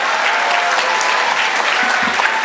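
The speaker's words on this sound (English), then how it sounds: "give yourselves a hand of applause" A conference audience gives a dense, continuous round of applause that fills the whole stretch, loud and close.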